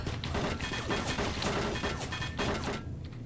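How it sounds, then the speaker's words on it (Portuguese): Enemy gunfire in Doom 3 from a shooter up above, a loud rapid series of sharp shots and impacts over a dense game soundscape, cutting off near the end. "Tem um cara lá em cima atirando na gente."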